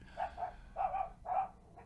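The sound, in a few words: dogs barking in the background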